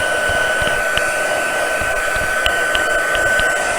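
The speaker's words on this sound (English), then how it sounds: "run my heat tool, sorry for the noise," A heat embossing tool blows hot air to dry ink with a constant, steady whooshing hum and a thin high whine, close by and uninterrupted.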